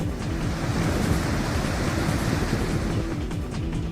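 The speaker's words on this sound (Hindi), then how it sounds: "पिछले दिनों की अच्छी बारिश के चलते प्राकृतिक झरने बहने लगे हैं" Natural waterfalls running over eroded rock channels among desert dunes near Jaisalmer after heavy monsoon rain give a loud, continuous, close rush of cascading water, with some wind buffeting the microphone.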